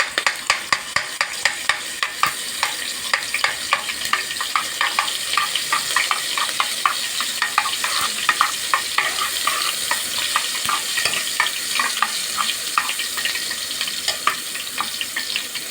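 Minced garlic fries in hot oil for a koshari tomato sauce, a dense, crackling sizzle that runs steadily throughout with rapid small pops, close and loud, with no speech.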